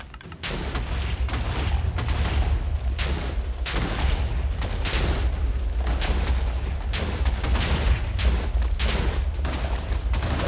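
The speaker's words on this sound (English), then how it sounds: "we just hold after we hear like our first explosion" Continuous rumbling booms and rapid gunfire-like bursts from explosions in Minecraft survival multiplayer, loud and dense throughout with no pauses.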